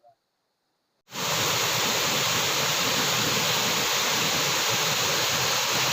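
A waterfall roars in after a second of near silence, a loud, dense, unbroken rush of falling water that holds steady to the end, close and with no voices over it.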